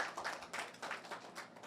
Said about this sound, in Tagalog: Pumalakpak nga lahat ng kabataan.